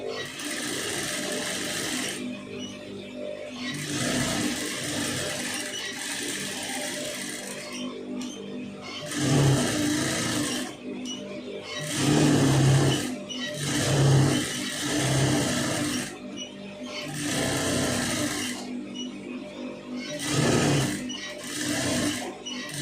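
Sewing machine stitching blouse lining pieces, a steady close mechanical whir running in long bursts with brief pauses and faint background noise.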